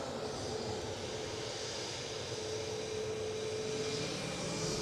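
A Ryanair airliner at Edinburgh Airport produces a faint, steady engine rumble with a low hum, continuous and distant throughout with no talk.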